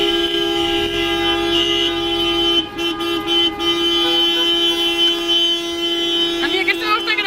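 A car horn blares loudly and without a break near La Roca del Vallès, with faint voices and traffic noise underneath.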